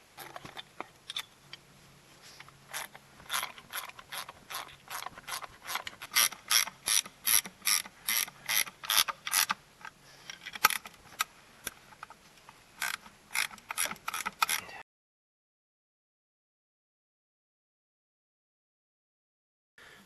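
A ratchet wrench tightens a bolt on an air compressor with a cracked block, clicking in quick rhythmic bursts close up for about fifteen seconds before falling silent.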